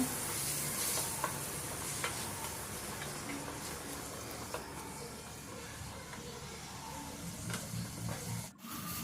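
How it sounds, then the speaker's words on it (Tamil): Tomatoes and onions sauté in a pan for tomato chutney, a steady low sizzle with light scraping and ticking from stirring, continuing close by without voices and briefly interrupted near the end. "தக்காளி ஆட் பண்ணிவிட்டு நல்லா வதக்கிக்கோங்க"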